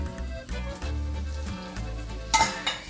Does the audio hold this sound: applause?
no